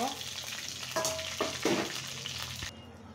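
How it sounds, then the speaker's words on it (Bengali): An egg fries in a pan with onion, red chili powder, garam masala, salt and turmeric: a steady close sizzle with a few soft scrapes of stirring and no talking. "আমি এখন খুব সুন্দর করে ডিমটাকে ভেজে নেব।"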